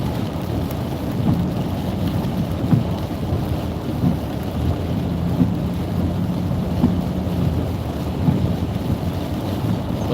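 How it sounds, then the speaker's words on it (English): Rain drums steadily on a vehicle driving through a tornado-warned severe thunderstorm, with a constant roar of wind and road noise and faint rumbles beneath. "now we're kind of just punching into a little bit of the rain here in the back end of it"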